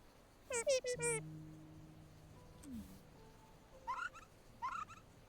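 Bird calls from the Celeste video game: a few short chirping bursts, one near the start and two more later, mixed with game music and tones, moderately loud and alone without talk.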